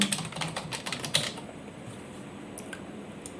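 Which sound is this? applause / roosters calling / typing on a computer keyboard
typing on a computer keyboard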